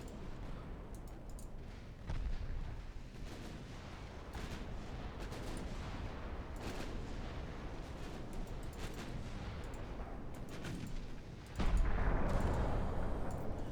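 Warship gunfire in the naval battle game Ultimate Admiral Dreadnoughts, as a dreadnought engages cruisers: deep, booming salvos and scattered cracks over a constant low roar of sea and battle noise, heaviest near the end.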